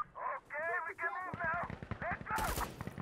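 Bursts of light machine gun fire rattle in Insurgency: Sandstorm, rapid close shots overlapping other game sounds, with a loud sharp crack near the end.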